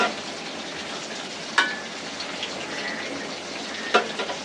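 Baila fish fries in a pan of hot oil, giving a steady dense sizzle with a couple of sharp clinks or stirs from a utensil.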